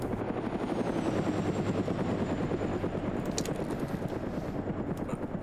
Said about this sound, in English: I don't know if they're going to hear that helicopter